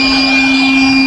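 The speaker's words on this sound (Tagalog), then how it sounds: "nagbo-blower na si Boy Kalo." An air blower runs steadily, blowing dust off a roof before cementing work, a loud, continuous whine with a strong tonal hum and no breaks or talk.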